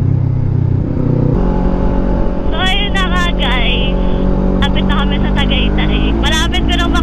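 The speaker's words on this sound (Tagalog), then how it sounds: "Mabilis ng motor." A motorcycle climbs uphill at speed on a long ride, its loud, steady engine drone continuous throughout while a voice talks over it.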